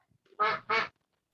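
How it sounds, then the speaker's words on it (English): A goose gives two short, nasal honks in quick succession, close and clear with silence around them. "It's the sound of a goose."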